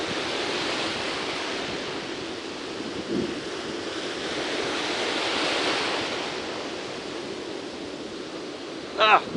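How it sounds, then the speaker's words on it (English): Ocean waves breaking in the surf on a beach while bass fishing, a broad steady roar with a rising swell midway and wind buffeting the microphone, ending in a brief sharp rattle. "the waves that keep tricking me"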